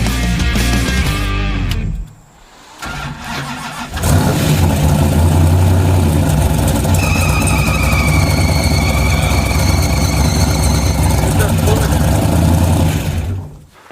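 A 1975 AMC Gremlin with a junkyard V8 runs loudly and steadily for most of the stretch after a brief dip, its rough engine roar mixed with a high squeal, while people talk over it.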